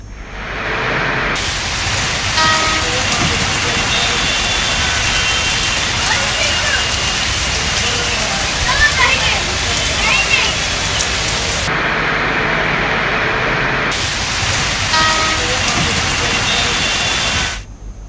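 Heavy rain pours over the streets of Hyderabad in a steady, dense hiss that stays loud and continuous from start to finish, with no voices heard.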